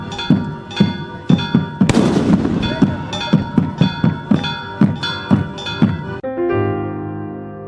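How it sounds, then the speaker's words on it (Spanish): Rockets and fireworks explode at a religious festival in a rapid series of loud, sharp bangs about every half second, some with crackling tails, ending in a ringing, sustained tone. "el repiquetear de los bombos con los estruendos de los cohetes"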